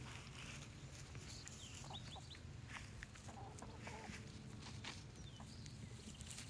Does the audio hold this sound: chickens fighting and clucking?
yes